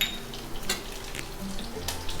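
Mustard seeds and curry leaves sizzle steadily in hot oil in a stone pot, a close, continuous crackling fry with a few sharp pops.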